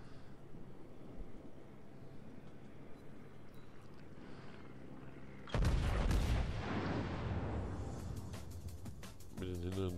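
Main battery guns of the battleship Tirpitz firing a salvo in World of Warships, a sudden loud blast midway that rolls into a long booming rumble, with crackling bursts trailing after over the steady background.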